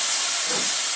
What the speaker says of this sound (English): This is one of the trains used in the Harry Potter movie.